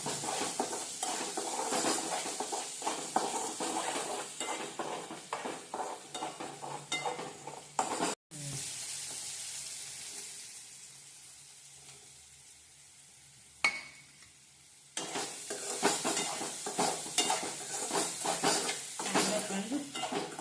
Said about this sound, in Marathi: आणि मग कांदा घालणार. बरी परतून घ्यायचं ना, भाजायला पाहिजे बरोबर.